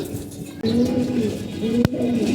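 Pet pigeons coo close by in soft, low, rolling calls that repeat in a steady rhythm, with a brief sharp knock partway through.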